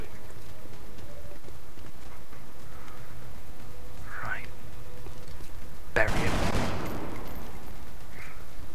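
Plasma weapon fire in the video game XCOM: one loud, broad burst of a shot that stands out clearly over a continuous game soundscape, with a couple of fainter whooshing effects before it.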